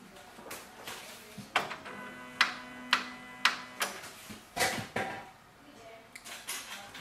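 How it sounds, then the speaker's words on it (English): An HP Color LaserJet Pro M282nw printer powering on: a series of sharp mechanical clicks and clunks in an irregular rhythm, with a short steady hum partway through, fairly quiet and close. "first step is to switch on the printer"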